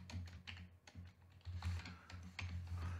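Keys on a computer keyboard tapping in quick irregular bursts while an email is typed, with close, soft clicks and a low steady hum behind them.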